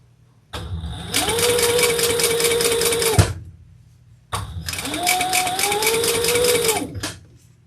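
Sewing machine top stitching a crossbody bag: two close, steady runs of loud whirring stitches, each a few seconds long, separated by a short pause.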